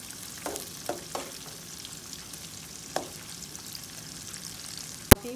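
Onions fry in a pan for a Fiji-style prawn curry, a low continuous sizzle with a few scattered spatters and stirring clicks, ending in one sharp knock, no talking.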